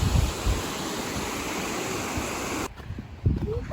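A waterfall at Jonkershoek Nature Reserve rushes as a steady broadband roar, loud and close, then drops away abruptly near the end.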